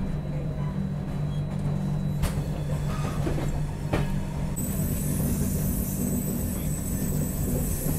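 A Tejas Express pulls out of Tiruchirappalli alongside another train, a steady low rumble of wheels and carriages with faint rattles and a high squeal rising toward the end.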